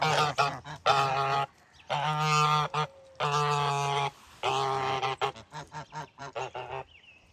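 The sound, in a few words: geese honking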